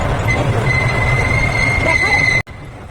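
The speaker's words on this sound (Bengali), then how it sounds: "ট্রেন কিন্তু ছেড়ে দিয়েছে আমরা ট্রেনে চলে রাজশাহী যাচ্ছি" A passenger train bound for Rajshahi rolls along with a loud, close rumble of wheels and a long squeal of wheels on the rails, before the sound cuts off sharply near the end.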